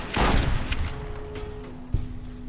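Lakelurk creatures firing their sonic attack in a Fallout video game, a loud burst at the start followed by a lingering roar and a second sharp hit near the end.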